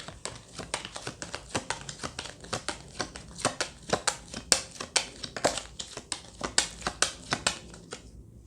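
Tarot cards shuffled by hand, a steady run of quick crisp riffles and papery slaps close up, continuing throughout with no talking.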